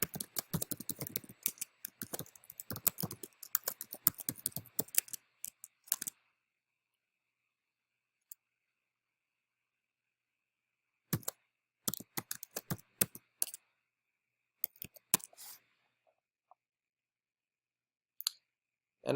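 Keyboard typing while entering trip dates and details into a mileage reimbursement form: dense bursts of quick key clicks for the first six seconds, then long silence broken by a few shorter, quiet clusters of taps.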